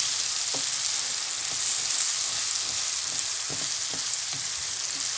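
Green beans hitting a hot pan for pasta e fagiolini, giving a loud steady sizzle that fills the whole stretch, with a few soft utensil knocks now and then and no talking.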